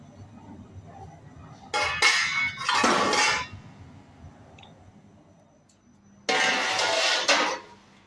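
A few dishes and pots being washed: two loud bursts of running, splashing water with faint clinks of vessels between them, close to the microphone, and quieter kitchen background in the gaps.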